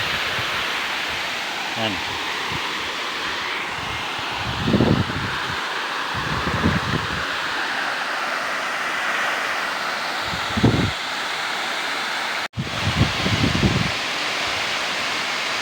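Dampalit Falls in Los Baños, Laguna pours with a steady broadband roar close by, filling the whole scene while someone talks intermittently over it and wind buffets the microphone.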